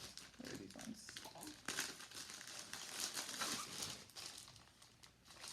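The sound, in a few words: crinkling plastic packaging of breast milk storage bags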